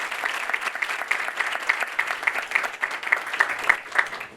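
A crowd applauds steadily at an award ceremony, a dense patter of many hands clapping at moderate volume without a break.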